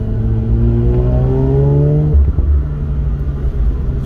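Close, loud Mazda RX8 rotary engine revs smoothly upward for about two seconds, then drops back to a deep rumbling idle before picking up again.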